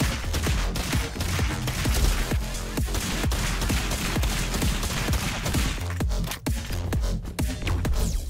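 A legendary flag cannon fires in the fast-paced robot shooter Roboquest, sending a dense, continuous barrage of rapid blasts and impacts with loud, sharp transients layered over busy game sound effects.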